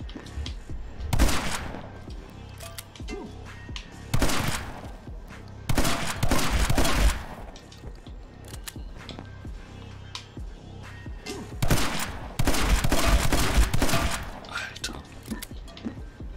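Bursts of gunfire from the video game My Friend Pedro come in several loud clusters, separated by quieter stretches of rattling mechanical game noise.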